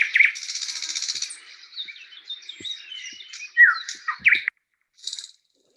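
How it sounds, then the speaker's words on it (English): A real nightingale sings a rich, varied phrase of whistles, trills and chirps, loud and close, then falls briefly silent before a short final burst. "a little flavour there for you of a real nightingale"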